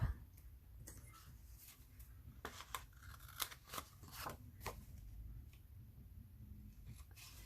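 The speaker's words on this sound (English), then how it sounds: "I can always cut those parts off." Scissors snipping pieces off a paper craft project, a series of crisp, irregular cuts and small clicks close up in a quiet room with no talking.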